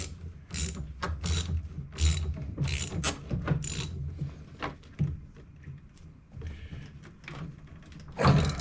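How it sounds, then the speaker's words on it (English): A ratchet on a swivel and long extension tightens a bolt on a 2006 Polaris Ranger 700XP: a steady run of sharp clicking strokes, close and fairly quiet, with short pauses between pulls and no talking. "Let's reach down in here and tighten that bolt up."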